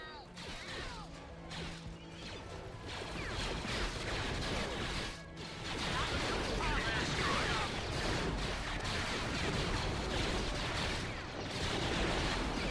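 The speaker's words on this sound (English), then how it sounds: "Were those just delayed explosions, or is that artillery?" Battle sounds from the video game Empire at War: Fall of the Republic, dense rumbling artillery blasts and crashing explosions that pile up into a continuous barrage. Someone talks faintly over the din.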